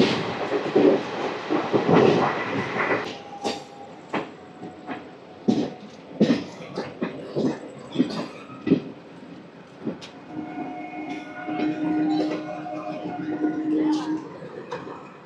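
The Circar Express passenger train rolls along with rumbling wheels, clattering joints and rattling coaches, heard from inside with someone talking over the noise.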